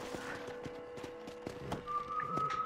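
Horse hooves clip-clopping in the video game Red Dead Redemption, a steady walking rhythm of distinct hoof beats, with a sustained tone rising near the end.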